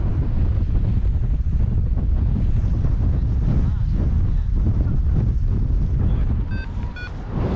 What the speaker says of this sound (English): It's quite breezy on the top